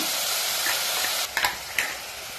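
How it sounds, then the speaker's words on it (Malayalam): Onion sautéing in a pressure cooker for chicken curry makes a close, constant sizzle, with a few sharp scraping clinks of a spoon stirring near the end and no talk. "സവാള ജസ്റ്റ് വാടി വന്നാൽ മതി."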